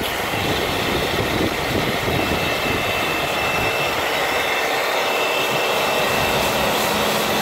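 Water spray rinses a car during detailing after the cleaning product has soaked, a loud, steady, unbroken hiss of water lasting throughout with no voices.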